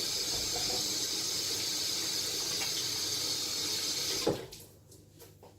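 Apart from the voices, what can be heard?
washing hands under running tap water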